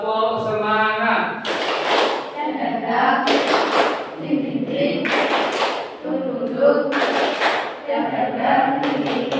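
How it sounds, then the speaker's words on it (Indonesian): A group performs a rhythmic spirit clap (tepuk semangat), with bursts of patterned hand clapping arriving in regular waves amid voices speaking and chanting along. "Tepuk semangat."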